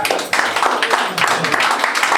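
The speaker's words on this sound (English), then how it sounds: "Alright, so I'll give him a round of applause." An audience applauds a poet at a live writing session, a brief burst of clapping from many hands, close and lively, with voices mixed in.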